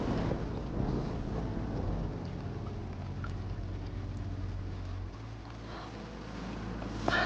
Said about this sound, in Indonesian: aku takut petir